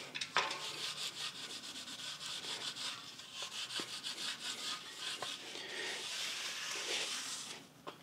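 Steady rubbing and scrubbing on a mountain bike rim being wiped clean of tire sealant, a close, continuous textured friction with short strokes and no voices.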